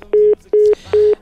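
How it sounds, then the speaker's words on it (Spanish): Touch-tone keypad dialing on a telephone during a radio call-in show: three evenly spaced, clear electronic DTMF beeps, each about a fifth of a second, loud and close with no talking. "Estamos marcando ya."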